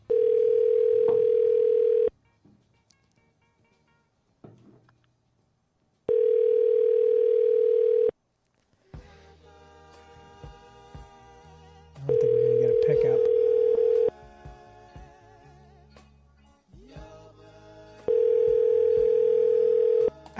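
Telephone ringback tone while a call is placed, a loud steady tone sounding in regular two-second bursts with long gaps, and music and talking heard between the bursts.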